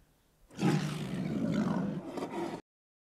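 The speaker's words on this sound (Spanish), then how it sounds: "Otro felino es el tigre." A tiger gives a single long, rough roar lasting about two seconds before cutting off abruptly, loud and near in an otherwise quiet setting.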